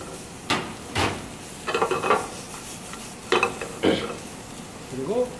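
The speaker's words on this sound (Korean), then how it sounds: "마늘 볶고 그다음에 딱딱한 것부터 먼저 볶아야 됩니다" Garlic and hard vegetables being stir-fried in ordinary cooking oil, a utensil scraping and knocking against the pan in several separate strokes over a soft sizzle.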